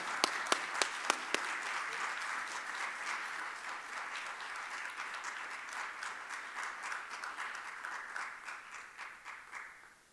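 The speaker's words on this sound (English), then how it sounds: "So a round of applause." Audience applause at a research excellence awards event, opening with a few sharp individual claps before swelling into steady, dense clapping that continues evenly and then thins out near the end.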